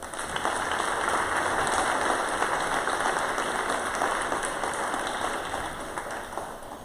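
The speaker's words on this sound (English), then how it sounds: "So the players, the coaches, big round of applause." A crowd at a senior girls' basketball tournament applauds the players and coaches, a steady wash of clapping that holds at an even level for several seconds without a break.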